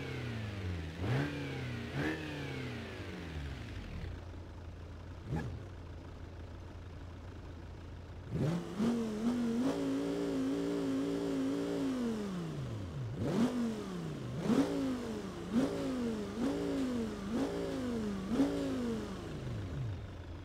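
Audi Q7 3.0 V6 diesel and petrol engines in the BeamNG.drive game, revving in repeated rising bursts that fall away between pulls, with a long sustained climb in the middle and idle gaps between runs.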